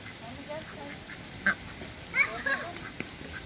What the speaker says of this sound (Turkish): Bak bak ördekleri besliyoruz.